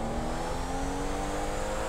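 Steady engine drone of a motorcycle idling and revving in GTA 5 roleplay, a continuous close hum with a faint rising tone and no voices.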